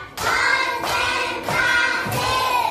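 Children in a first-grade classroom clap out a counting game: four sharp, ringing claps in unison, spaced a little over half a second apart, close and fairly loud.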